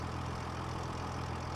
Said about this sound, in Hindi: मैं इस मशीन को भाई बंद कर दूँ, बहुत ही आवाज़ आ रहा है